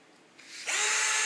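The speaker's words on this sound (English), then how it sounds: "spin the drill" An orthopaedic drill fitted with a CingleBit bit spins up from quiet into a loud, steady high whine that holds at full speed, with no voices.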